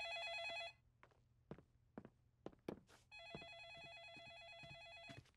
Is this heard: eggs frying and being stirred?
no